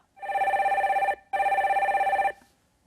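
Telephone ringing with two long, steady electronic rings separated by a short pause, loud and alone, as a caller is connected to a live broadcast call-in show.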